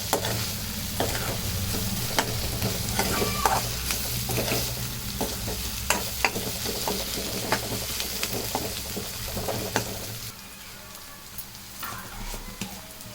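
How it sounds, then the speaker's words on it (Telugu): Egg curry being stirred in a pan after coriander is added, with steady scraping and clinking of a spoon over a continuous sizzle, close and alone for most of the stretch before quieting near the end. "కొత్తిమీర వేసి ఇలా కలబెట్టుకోవాలి."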